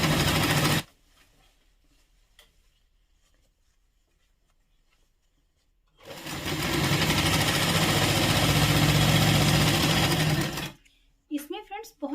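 A sewing machine stitching two six-panel petticoat panels together runs in one long, steady, loud burst of whirring after a quiet pause, then stops abruptly.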